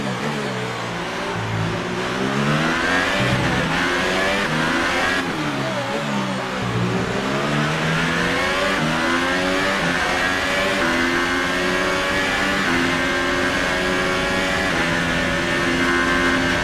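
A Formula 1 car engine in the racing game F1 2018, at the Mexico Grand Prix, roars loud and close throughout, its pitch sweeping up and down through gear changes as it accelerates and brakes.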